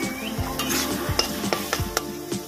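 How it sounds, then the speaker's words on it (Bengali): Spices and turmeric sautéing in a pan for Bengali chital fish muitha, a continuous sizzle broken by regular low scraping strokes of a spatula against the pan, close up and without speech. "এবার এটাকে ভালো করে কষিয়ে নেব।"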